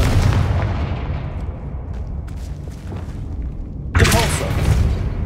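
A Confringo fire spell in Hogwarts Legacy goes off with a rumbling, booming blast. A loud, sharp burst lands near the end and then rolls out into a crackling tail.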